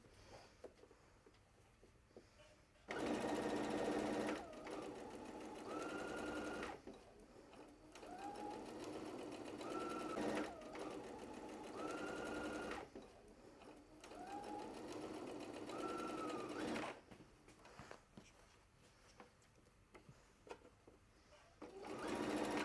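A sewing machine stitches corduroy, a fluffy striped fabric, for a winter aviator hat. It runs in three long, loud bursts of several seconds each, with quiet pauses between them and a faint voice in the gaps.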